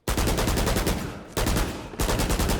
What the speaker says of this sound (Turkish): bir de hafif atış yapalım şöyle. Klasik Bulldog silahı.